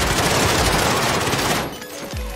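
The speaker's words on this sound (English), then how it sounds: "Shooting. Just keep shooting." Sustained rapid automatic gunfire in the video game Call of Duty Modern Warfare, loud and dense for about a second and a half before cutting off, followed by a quieter tail with a short low thump.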